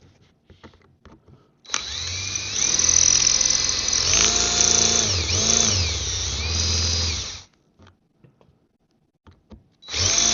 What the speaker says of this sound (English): the first things first is we got to drill out these old rivets